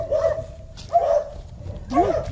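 A dog barks three times at a moderate distance, the bursts spaced out with a slightly whiny, yelping tone over a low outdoor rumble.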